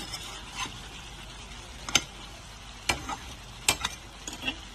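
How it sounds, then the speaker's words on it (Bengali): Marinated chicken being stirred in a hot pan for Hyderabadi green chicken, a soft sizzle under a few sharp scraping strokes of a spatula spaced a second or so apart, close up with no talking. "মাংসটাকে ভালো করে নাড়াচাড়া করে নিচ্ছি।"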